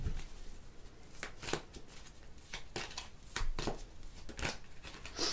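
A deck of tarot cards is shuffled repeatedly up close, crisp riffling bursts recurring in an uneven rhythm with no voices.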